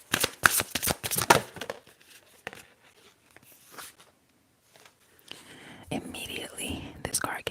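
Tarot cards shuffled and drawn during a whispered ASMR reading: crisp, rapid card riffles and snaps burst loudly at the start, then soft handling, with a fresh flurry of close card rustling near the end under a low whisper.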